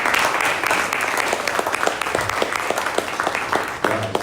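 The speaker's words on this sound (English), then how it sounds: "Yeah, round of applause, we like it?" Audience applause at a 1 Million Cups startup pitch event in Daytona Beach, a steady wash of many hands clapping at close range for the full stretch, with a brief murmur of voices near the end.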